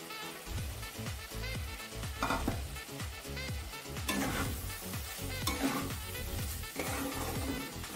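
Fried potatoes and prawns are stirred into a sizzling masala for a prawn curry, with rhythmic, repeated spoon scrapes and clinks against the pan over a continuous crackling fry, close and busy, with no one talking.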